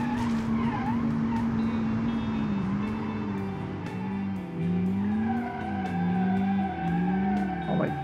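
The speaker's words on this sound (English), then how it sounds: "I'm not shifting, the ECU is shifting on its own." Hatchback with an automatic gearbox in sport mode, engine droning steadily with pitch rising and dipping as gears change on their own, tires squealing through understeer on a city or track course, close and loud throughout.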